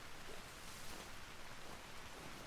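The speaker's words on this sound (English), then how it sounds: "Oh, the sound of rain." Steady, faint rain hisses evenly in a video game, a soft continuous patter with no voices or distinct events standing out.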